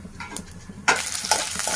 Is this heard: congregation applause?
no